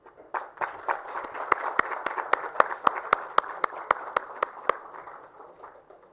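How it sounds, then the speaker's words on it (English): An audience applauds at a sanitation awards ceremony in India, with steady, sharp clapping that builds and continues for several seconds before fading, heard loud and close in a hall. "please put your hands together once again for all our winners. Big round of applause."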